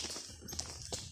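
Older horses walk at a campground, their hooves making soft, irregular clip-clops over a steady outdoor background at moderate distance.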